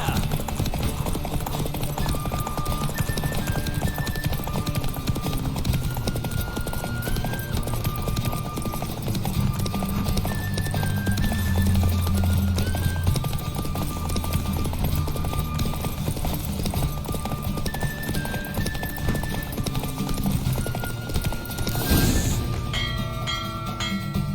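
Rhythmic hoofbeats of a galloping horse in The Witcher 3: Wild Hunt drum steadily throughout, over game music with a soft melody, and a sharp whoosh near the end.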